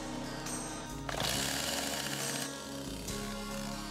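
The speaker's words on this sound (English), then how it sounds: "Some mechanized brush cutters are equipped with chains to beat the brush down." A mechanized brush cutter with chains that beat the brush down clears roadside vegetation, giving a loud, continuous mechanical roar and clatter with shifting intensity throughout.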